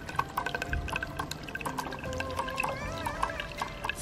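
Water pouring and trickling with small splashes and drips, fairly quiet, with faint voices in the background.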